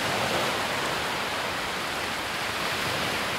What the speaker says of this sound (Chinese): 这边这个浪花多漂亮！